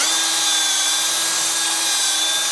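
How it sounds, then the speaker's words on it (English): Power drill with a 7 or 8 mm bit reaming out a puncture hole in a motorcycle tyre, a steady high-pitched whirring grind that runs continuously and loud throughout, with no talking. "Put the drill in there. And work the drill around it."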